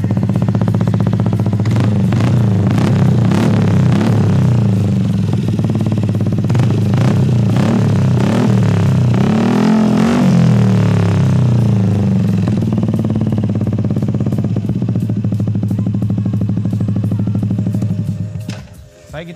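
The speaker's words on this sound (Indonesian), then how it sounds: "itu tadi suara dari knalpot Kawahara yang kisaran harga" A Yamaha NMAX scooter fitted with a Kawahara aftermarket exhaust idles and revs up close, a loud rumbling drone that swells through several throttle blips before cutting off at the end.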